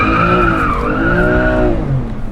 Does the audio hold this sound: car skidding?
yes